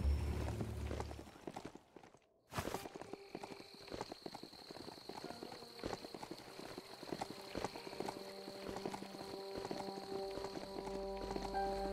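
A ridden mount's hooves clip-clop at a gallop in the game Biomutant, a brisk rhythmic beat close and fairly quiet, with a brief drop-out near the start.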